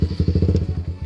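A Suzuki GSX R150 motorcycle engine cranks and turns over with a rapid, even chugging pulse, loud and close, lasting about a second.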